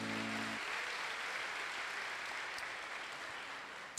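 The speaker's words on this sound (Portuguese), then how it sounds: "Aplauda bem forte o Senhor" A church congregation applauding during a family service, a dense wash of clapping heard from some distance, fairly faint and steady, following a brief musical tone at the start.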